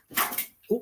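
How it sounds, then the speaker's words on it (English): A dog reacting to a ladybug indoors gives a drawn-out whimpering yelp, then a short, sharp bark-like yip close to the microphone. "The dog's freaking out with a ladybug."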